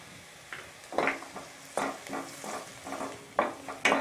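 Onion with crushed ginger and garlic being sautéed in a pan, a soft background sizzle punctuated by several distinct stirring scrapes of a spoon against the pan.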